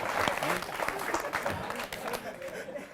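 An audience at a Holi-themed poetry recital claps and applauds loudly, a dense wash of hands with murmuring crowd voices and speech mixed in.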